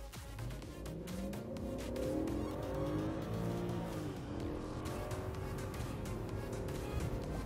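Original Audi S8 in sport mode accelerating hard from a standstill: a steady, loud engine roar climbs in pitch through repeated gear changes, continuous and close from inside the car, with no talking.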